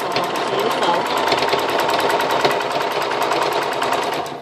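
A sewing machine stitches a seam in fabric, giving off a loud, steady, rapid mechanical whir with fine regular ticking that runs without a break.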